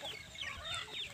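Free-range village chickens on a small farm cluck faintly in a brief burst of soft, overlapping calls.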